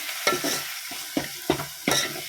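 Potatoes frying in a pan for potato curry, with a spatula scraping and stirring in five or six short bursts over a steady sizzle.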